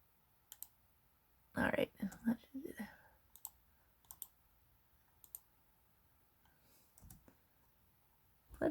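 Sharp, isolated computer mouse clicks sound close and quiet while working in an Excel spreadsheet, scattered across a near-silent room, with a brief spoken phrase in the middle.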